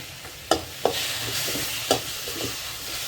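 Onion, green chilli, ginger and garlic sautéing in a pan, a steady oily sizzle punctuated by a few sharp spatula clacks and scrapes against the metal, close and without voices.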